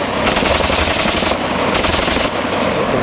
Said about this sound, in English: When the rifle went off, it wasn't your typical, rat-a-tat-tat type sound.